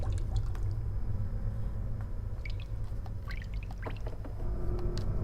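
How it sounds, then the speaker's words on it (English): Water dripping in the horror video game Corpse Party: Book of Shadows, a scatter of small, clear drops plinking irregularly over a steady low ambient hum, close by and fairly faint. "I was suddenly distracted by the sound of dripping water nearby."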